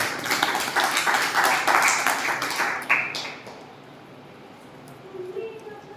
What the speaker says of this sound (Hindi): आप जोरदार से इनकी तालियों से स्वागत कीजिए।